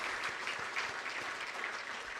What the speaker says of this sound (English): I believe we can do another big round of applause for His Excellency the President